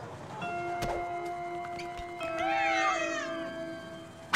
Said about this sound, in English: Playful kittens make Deuce go!